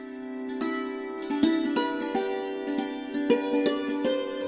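A santoor, the Indian hammered string dulcimer, rings out in quick struck notes and tremolo runs, bright overlapping metallic tones sustaining alone and fairly close.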